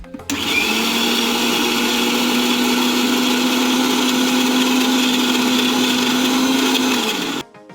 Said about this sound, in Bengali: তারপর আবার ব্লেন্ড করে নেব।